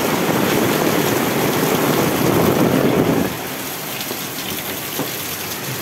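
Heavy rain pours in a dense, steady roar close by as rainwater comes into a house, then drops after a few seconds to a softer, continuous hiss of rainfall.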